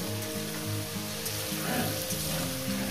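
Okra (lady's finger) frying in a pan gives a steady, dense sizzle that runs unbroken throughout, with faint tonal hum layered underneath.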